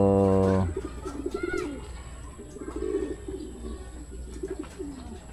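Young racing pigeons coo at the loft with soft, repeated throaty calls, close and fairly faint, after a brief loud tonal sound at the start.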